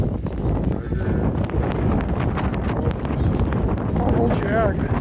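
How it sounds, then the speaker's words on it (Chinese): Strong blizzard wind at the Ishiuchi Maruyama ski area in Echigo-Yuzawa, Japan, buffeting the microphone as a constant loud roar throughout, with no speech. "风真的太大了"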